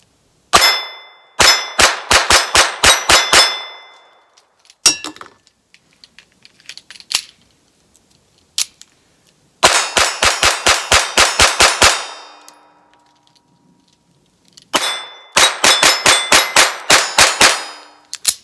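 Ruger LCP II .22 pistol fired rapidly one-handed in long strings of sharp, evenly spaced shots, several bursts of eight to ten rounds separated by pauses with a few scattered single shots, loud and close with no talking.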